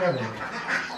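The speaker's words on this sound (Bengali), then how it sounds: "এদিকে হচ্ছে হাঁসগুলো আছে" Ducks quacking close by on a village farm, mixed with a person talking over them in a brief, busy moment.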